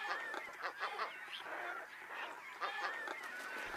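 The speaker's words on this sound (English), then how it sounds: "These are double-crested cormorants and they pretty much just eat fish." Double-crested cormorants give harsh, croaking goose-like calls on a gull island colony, a dense overlapping chorus of close and distant birds that keeps going without a break.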